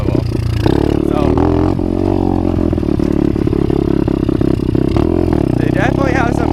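An Apollo RFZ 125 dirt bike engine during its break-in period, revving and accelerating with a buzzy, throttled note that rises and falls close by. Someone talks over the engine throughout.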